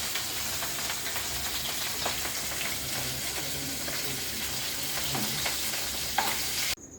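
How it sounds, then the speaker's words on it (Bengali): Steady, dense sizzling of fish frying in hot oil, crackling continuously throughout and cutting off abruptly near the end. "দেখেন কিভাবে ভাজা লাগে মাছ"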